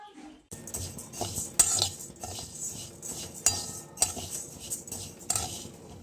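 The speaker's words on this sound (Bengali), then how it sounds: "ডাল ভেজে নিচ্ছি, মুগ ডাল করব" Moong dal is dry-fried in a pan and stirred with a metal spoon, giving a soft rustling scrape broken by sharp clinks and taps against the pan.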